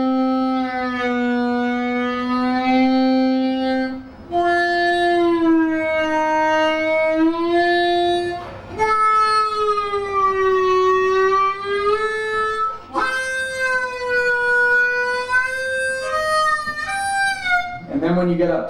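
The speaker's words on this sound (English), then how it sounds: "really draw on the lower end of the harmonica" Blues harmonica with hard draws on its low holes, giving bent, wailing notes that slide in pitch. The phrases are loud and close, with short breaths between them and no talking.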